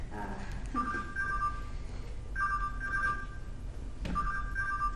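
A telephone rings in repeated bursts, two-tone trills separated by short pauses, moderately close, with faint background murmur.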